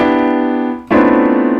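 Two sustained chords played in succession, a ringing combination of notes that fades briefly before a second, louder clashing dissonant chord is struck and held, loud and close with no talking.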